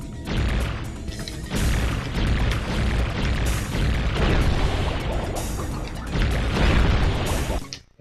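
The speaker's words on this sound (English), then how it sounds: "the last thing I need to blow up are these stupid shark subs" Video game explosions as shark submarines are blown up in Spyro 3, a dense run of loud booms and crashes packed together for several seconds before cutting off at the end.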